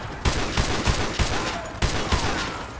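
Sniper rifle fire in the Modern Warfare 2 Remastered mission Prisoner 627, a steady run of sharp, loud gunshots cracking out at irregular intervals over a dense battle soundscape.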